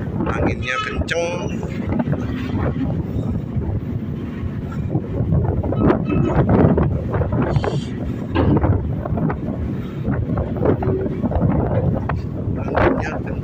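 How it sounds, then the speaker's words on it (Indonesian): Strong wind buffeting the microphone at a ferry boarding point, a steady loud roar with gusts throughout, with people talking faintly underneath. "Anginnya kenceng."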